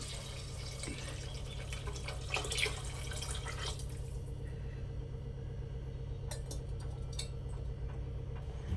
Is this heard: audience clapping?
no